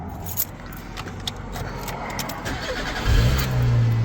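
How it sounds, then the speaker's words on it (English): A car starting with a GOOLOO A3 3000A jump starter: the starter motor cranks briefly and the engine catches, settling into a loud close-up idle at the end, with small clicks and jangles before it. "what I'm going to do now is start the car a few times, see how many times I can start it"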